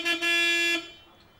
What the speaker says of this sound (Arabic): مو سامع الزمور؟